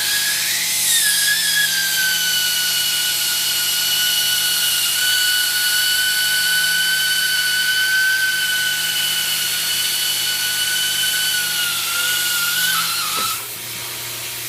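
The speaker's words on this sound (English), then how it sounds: "then I just push the weld button on the foot pedal." A Seamtek welder running a seam, heard as a loud, steady high-pitched motor whine with a constant tone that holds for about thirteen seconds, then drops off abruptly near the end.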